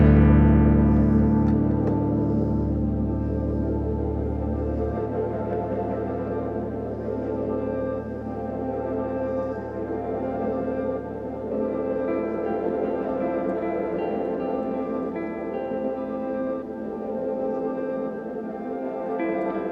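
A strummed open chord on a cheap old guitar, run through a Neural DSP Quad Cortex, rings out loud and full with effects processing, then sustains and slowly decays across the clip with no talk.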